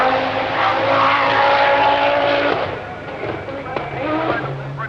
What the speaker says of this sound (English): contrast the new automatic gearbox works Audi Quattro of Walter Roll and just watch it go.